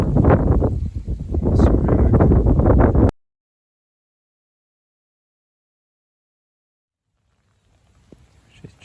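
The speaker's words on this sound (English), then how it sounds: "It's just starting to rain on me." Rain beginning to fall outdoors on a riverbank foreshore, a dense close hiss of drops and wind for about three seconds, then near silence with faint patter returning at the end.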